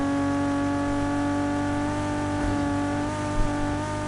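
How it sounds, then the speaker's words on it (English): A 350Z car engine in Need for Speed Heat holds a steady, brassy, trumpet-like drone with strong sustained tones, running continuously at high revs with slight pitch shifts and a brief bump near the end. "the engine sounds like a trumpet"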